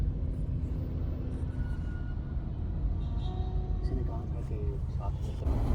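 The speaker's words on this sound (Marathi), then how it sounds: "खूप ट्रॅफिक आहे. खूप म्हणजे खूप." Heavy, slow road traffic near Karad, a continuous low rumble of engines from inside a vehicle with occasional horn-like tones and faint passing noises.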